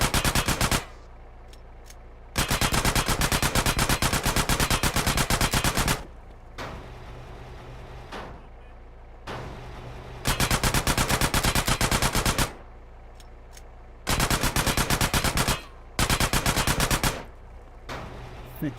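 Bursts of automatic gunfire from the video game GTA San Andreas, loud rapid volleys of several seconds each, separated by short lulls of quieter ambient game sound.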